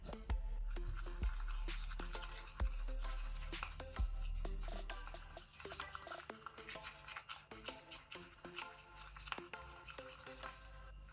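Homemade glue-free slime being mixed with baking soda in a container, a close, continuous wet scraping and stirring with a few soft thuds early on, no talking.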